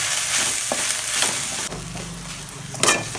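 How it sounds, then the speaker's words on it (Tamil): Moringa (drumstick) leaves being sautéed in a pan, a steady loud sizzle and frying hiss with occasional scraping stirs, close up. "இது கொஞ்சம் வதக்கி போட்டோம்னா நல்லாயிருக்கும் அப்படிங்கிறதுனால வதக்கிட்டுருக்கேன்"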